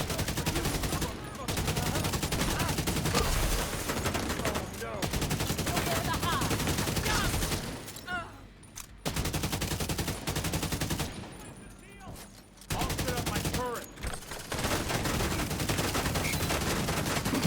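Near-continuous video game gunfire, mixing sustained automatic bursts and rapid volleys, loud and close, with a few short lulls and faint voices underneath.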